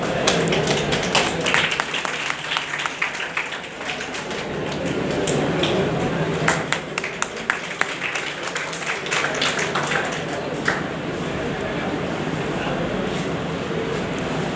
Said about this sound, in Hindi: तालियां बजती रहें भाई, हर बार मैं कह रहा हूं